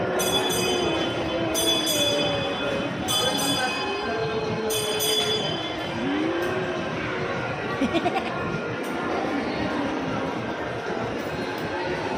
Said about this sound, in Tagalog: Choo-choo train!